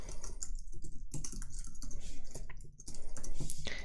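Rapid typing of code on a computer keyboard, close and crisp, with bursts of clicking keys and short pauses between them.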